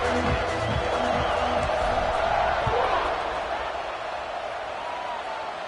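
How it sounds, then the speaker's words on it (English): A football stadium crowd roars in a sustained, loud wash of cheering just before kickoff, with a commentator's voice heard over it at the start. "this crowd now ready to get behind them"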